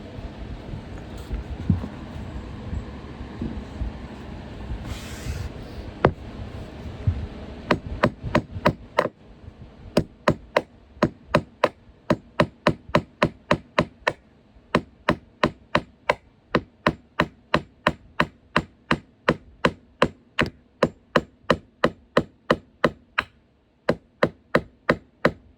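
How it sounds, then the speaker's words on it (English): Repeated sharp hammer blows striking wood while laying attic flooring, starting sparse then settling into a fast, steady rhythm of loud nearby strikes. "Could also just hammer it in."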